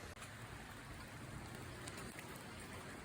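Steady rain falling on a rainy day on Salt Spring Island, a dense even patter of drops on surfaces nearby, soft and continuous for the whole stretch with no talk.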